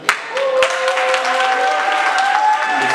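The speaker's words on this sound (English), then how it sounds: "I want y'all to give him a warm round of applause, warm welcome" An audience at a gathering claps warmly to welcome a speaker. The dense, steady applause runs for the whole moment, with some faint tonal sounds beneath it.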